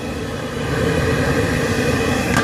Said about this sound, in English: You can hear the gas in the background,